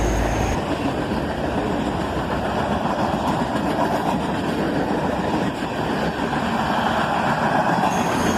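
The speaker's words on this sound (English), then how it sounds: "A decent cut of loaded center beam cars here." CSX manifest freight train with a cut of loaded center beam cars rolling past close by, a steady continuous rumble and clatter of wheels on rail that holds loud for the whole stretch.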